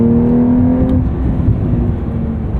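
A 2023 Porsche 911 Carrera T with a manual gearbox gives a throaty, steady exhaust drone from close by while accelerating, alone and unbroken.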